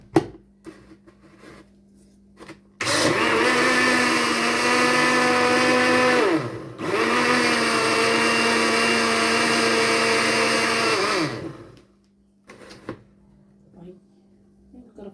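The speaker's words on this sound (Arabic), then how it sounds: "واروح ضرباه في الخلاط" An electric kitchen blender whips yogurt for a homemade batch. It runs as a loud, steady whir for about nine seconds, briefly dips midway, then cuts off, with quiet handling noises before and after.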